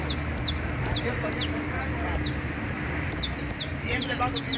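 A creole canary sings loud, rapid high chirps and trills in a steady repeating rhythm, close by, while people talk underneath.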